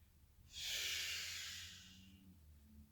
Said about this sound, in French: Alors ici, j'expire tout d'abord. 3, 2, 1, on expire.